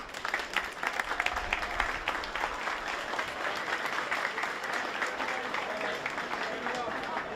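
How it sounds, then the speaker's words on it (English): At an All Ireland Senior B schools football final, a crowd applauds the sponsor Mazida with sustained, fairly faint clapping from many people, a continuous crackling patter lasting several seconds with some background voices. "So a big round of applause, please, for Mazida and the generosity."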